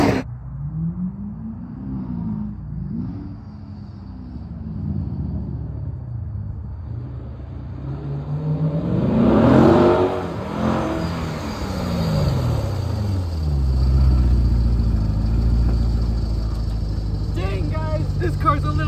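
A Corvette engine revs and rumbles while driving, loud and close with a swelling midway, then settling into a steady low roar, with people talking over it.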